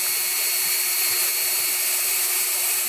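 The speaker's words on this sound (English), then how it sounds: "So just drill in holes" A power drill bores holes into the plastic side of a Dyson vacuum, a steady close, loud whirring grind that runs unbroken without a pause.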